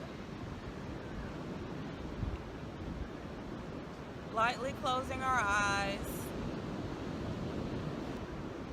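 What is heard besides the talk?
ocean waves breaking on the shore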